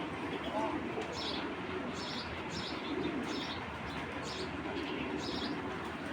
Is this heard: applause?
no